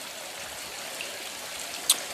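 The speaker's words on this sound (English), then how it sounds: "Beautiful water feature." Water runs steadily through a pond waterfall feature in Santa Fe, New Mexico, a soft even hiss of flowing and splashing water with a brief brighter splash near the end.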